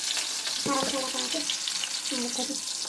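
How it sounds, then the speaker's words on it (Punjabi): Eggplant being tempered in a pan for an aloo baingan curry gives a steady, close sizzle of frying with brief stirring clinks, and no one talks over it. "ਆਪਾਂ ਲੱਗਿਆ ਹੁਣ ਬੇਂਗਣਾ ਨੂੰ ਤੜਕਾ ਲਾਉਣ"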